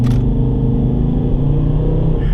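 A Volvo C30 D4 five-cylinder diesel engine rumbles close by at a steady loud idle, with a deep throbbing pulse and a brief higher burst at the start.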